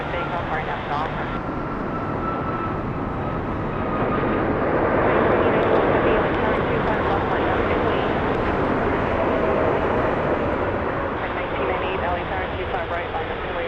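A Delta airliner takes off from runway 25 right at Los Angeles International Airport, its engines roaring loud and continuous, swelling slightly midway, with no one talking.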